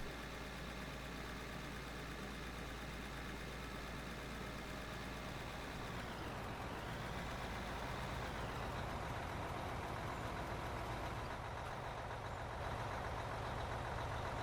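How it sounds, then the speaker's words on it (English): A rock truck idles in the Out of Ore mining game, a steady, loud diesel rumble holding even throughout with a brief pitch dip midway and no talking. "let's try the rock truck"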